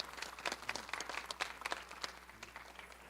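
A modest audience applauds a professor at an artist conversation event, a brief run of scattered, uneven claps from a smallish crowd, fairly close and fading toward the end.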